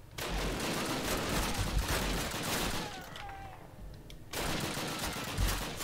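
Sustained machine gun fire from the Call of Duty video game, a dense, loud rattle of rapid bursts that briefly thins to scattered shots and then returns at full intensity.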